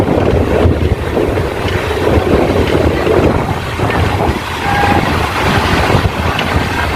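Tebhaga Express train running through Balarambati, a loud continuous rumble and roar with heavy wind buffeting, steady throughout with no talk.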